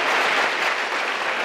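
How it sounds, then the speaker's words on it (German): An audience claps in a brief, dense burst of applause, loud and even throughout. "Einen großen Applaus bitte"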